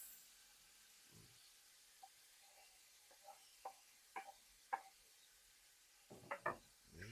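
Golden-browned onions sizzle faintly in hot oil in a home kitchen while arroz caldo is being cooked, with soft crackles and occasional light clinks of a utensil against the pan.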